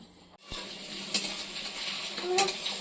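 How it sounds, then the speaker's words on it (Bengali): Potatoes frying in a home kitchen pan, a steady close sizzle broken by a couple of sharp utensil clinks and scrapes against the pan. "এদিকে আলু ভাজে বসিয়েছে"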